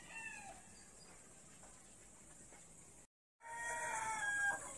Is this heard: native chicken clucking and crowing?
yes